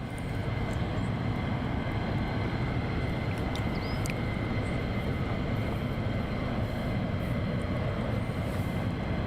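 Military jet aircraft at RAF Lakenheath, with a mass launch under way on runway 24, heard as a steady, loud, continuous low engine roar lasting throughout, with no talk.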